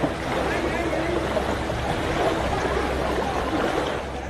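Floodwater in Devapur village, Gopalganj, Bihar, pours into homes in a steady, dense rush that holds at an even level throughout, with no breaks.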